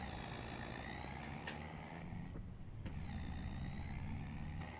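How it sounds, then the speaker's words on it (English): Truck engine in Farming Simulator 25, driving on the Polish map: a steady low diesel rumble with broadband road noise, a couple of brief higher hisses and clicks over it, constant level throughout. "Truck sounds sweet."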